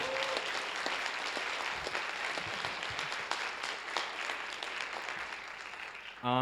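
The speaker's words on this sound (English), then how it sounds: "Can we get a round of applause for this guy right here?" Audience at a high school concert applauds steadily for about six seconds, a dense, even wash of many hands clapping that starts abruptly and fades slightly, with a brief tonal sound at the start and a sharp noise at the end.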